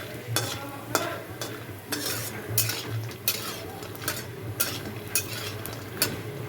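Bori lentil dumplings frying in oil for a bottle gourd curry, a soft steady sizzle under repeated sharp clinks and scrapes of a utensil stirring in the pan.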